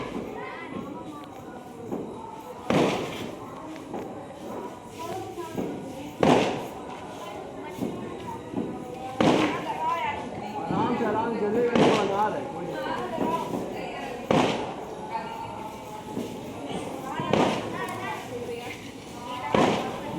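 Diwali firecrackers burst outdoors in a series of sharp, loud bangs spaced a few seconds apart, with people talking between the blasts.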